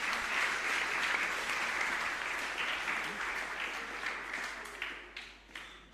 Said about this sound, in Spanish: Muchísimas gracias con este fuerte aplauso.